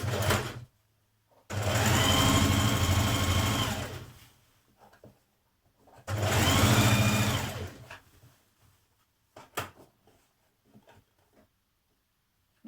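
A sewing machine stitches a pocket seam on a shirred dress in two steady whirring bursts of about two and a half seconds each, separated by a pause, with a few handling clicks and taps afterward.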